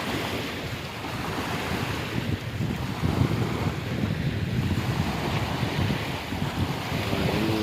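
Steady roar of sea surf during Typhoon Kristine with waves washing continuously, mixed with gusty wind buffeting the microphone; no voices.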